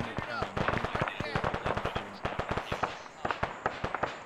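Rapid gunfire in the Arma video game during a Vietnam-era village campaign, dense bursts of sharp, loud shots in quick irregular succession, with a voice speaking over the shooting.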